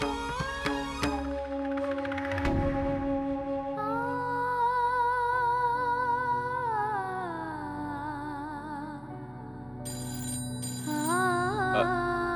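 A telephone ringtone plays an electronic melody of sustained, wavering tones that keep repeating, steady and fairly loud, with no voices.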